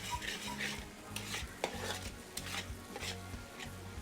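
Corn chevda is stirred and roasted in a pan, with continuous scraping and rustling of the mix against metal over a faint sizzle, close and steady.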